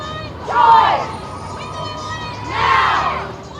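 A Kentucky crowd rejoices as Roe is overturned, letting out two swelling waves of shouting and cheering that rise, hold and fade over a steady babble of voices.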